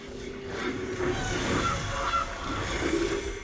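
A goose honk effect from the Magic: The Gathering Arena card game sounds in a few short nasal calls against a soft, shifting digital backdrop, fairly faint and without talk.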